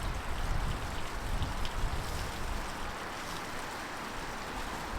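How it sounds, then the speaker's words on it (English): Garden pond waterfall fed by an electric pump, a steady broadband rush of falling, splashing water that stays constant and fairly close throughout, with no voices. "flipped on the pump, and boom, the waterfall is complete"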